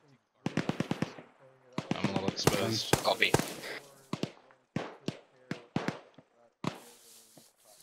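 ArmA 3 infantry gunfire: rapid bursts of sharp, loud rifle shots in clusters, some fast automatic strings and some single cracks, close by, with a voice briefly speaking over them.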